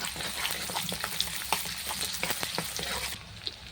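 Chopped onion and dried chilli frying in hot oil in a pan, a close, steady crackling sizzle broken by small sharp pops and occasional stirring scrapes, heard alone without talk.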